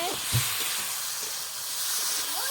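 Jiol fish, including tengra and shingi, cook in a pan in a village home kitchen, giving a steady, close hissing sizzle with a few soft stirring knocks. A faint voice comes through at the start.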